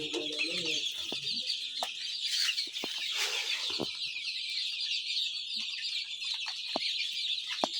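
Young Egyptian Fayoumi chickens kept for egg laying cluck and chirp steadily at close range, a busy flock of soft high calls continuing throughout with occasional louder peeps.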